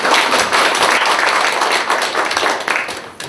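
Audience applause at the opening of an inaugural general meeting of a regional business association, a dense burst of close hand clapping that continues steadily and tapers slightly at the end.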